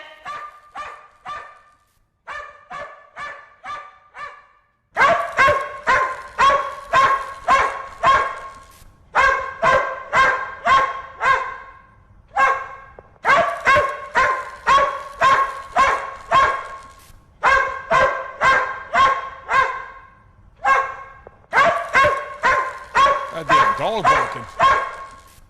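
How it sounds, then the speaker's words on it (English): Repeated bursts of dog barking in rapid clusters, loud and close, with short pauses between volleys and the barks growing denser toward the end; no talk over it. "That damn dog barking was ruining that damn video for me."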